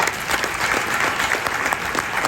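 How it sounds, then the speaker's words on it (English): Steady, dense applause from a conference audience in the UAE, loud and continuous throughout. "Have a round of applause, please, for Miss Samuel."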